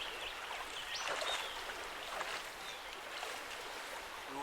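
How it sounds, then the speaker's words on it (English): Rushing river rapids pour over deeper water on a trout stream, a steady broadband wash of running water that holds close and even throughout with no voices. "Rapids running down the deeper water."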